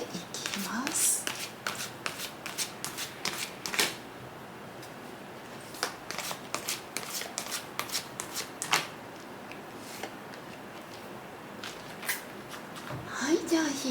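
Tarot cards are shuffled and drawn by hand, giving rapid bursts of crisp riffling clicks and slaps, close to the microphone, with a person talking throughout.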